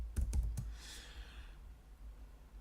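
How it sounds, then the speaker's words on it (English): Several quick clicks from a computer keyboard, close and fairly quiet, followed by a soft breathy hiss and then low room hum. "So all you need to do is type your response in here."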